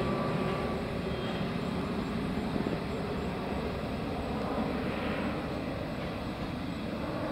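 RC airplane gliding down to land in hurricane-force wind, a steady roar of wind and motor blended into a constant wash of noise, loud and unbroken throughout with no voices.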